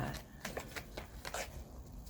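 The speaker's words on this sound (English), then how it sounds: "They're a little hard to shuffle though, because they're oval-shaped cards" Soft papery riffling and slapping of oval-shaped oracle cards being shuffled by hand, quiet and close, in several uneven bursts.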